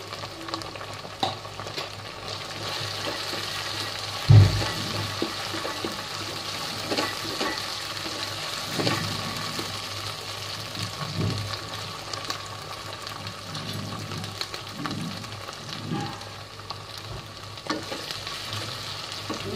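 Chopped capsicum sizzles and fries steadily in a hot pan for chicken darbari keema, a continuous bright crackle with occasional stirring scrapes and one sharp knock, no talking.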